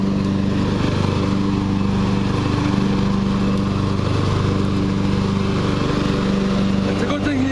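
A riding lawn tractor engine runs steadily and loudly throughout, a constant droning hum with a fixed pitch, while people talk over it.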